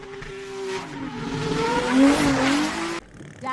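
Formula Drift-style race cars cornering side by side through a final bend on a circuit, engines roaring loud and close with tires squealing in rising, wavering tones for about three seconds before cutting off abruptly.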